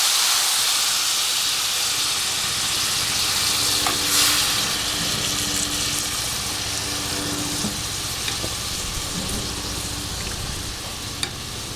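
Liquid poured into a hot pot of frying steak sets off a loud, steady sizzle and hiss that holds for the whole stretch, with scraping and small stirring knocks now and then.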